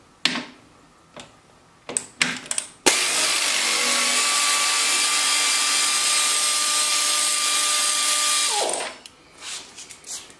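A power tool whirs steadily for about six seconds, loud and close, taking a bolt off the body of a 2016 Harley Tri Glide Ultra, preceded by a few sharp clicks and taps, with soft handling noises afterward.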